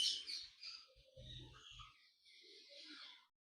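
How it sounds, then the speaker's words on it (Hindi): Birds chirp around an old 300-year-old stepwell in Neemrana, with faint, high, scattered tweets drifting at a distance in a quiet open setting, plus a few low thumps. "पंछी चहचहा रहे हैं, ये देखिए।"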